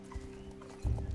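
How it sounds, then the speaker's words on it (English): Horse hooves clip-clop in the Star Stable Online video game, a short run of steady footfalls that grows louder and heavier near the end, with a faint whinny in the mix over low background music. "I don't even have to ask where these horses are"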